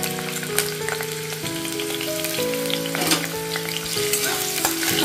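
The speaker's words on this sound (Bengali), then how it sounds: "আদাটা ফ্রাই করে নেব।" Chopped ginger frying in a little oil left over from frying pakoras, a loud, close, continuous sizzle with faint stirring scrapes and a steady tonal hum underneath.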